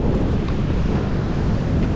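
Large ocean waves and wind at a seashore during an overnight fishing trip, a steady loud roar of surf and wind buffeting the microphone throughout, with no talk.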